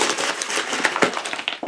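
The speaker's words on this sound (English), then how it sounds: "Sorry about the crinkling noise now." A plastic bag holding knitting yarn crinkles in continuous, close, crackly rustling for a brief moment.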